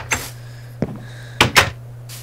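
Blocky wooden door knocks and clacks come from Minecraft as doors are placed. Several separate short hits are spread unevenly over a faint steady background hum.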